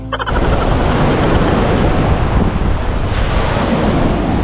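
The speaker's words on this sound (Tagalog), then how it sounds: "Malaki yung alon" Heavy ocean surf in stormy weather roars continuously, loud and close, with wind buffeting the microphone throughout; recorded in Oriental Mindoro.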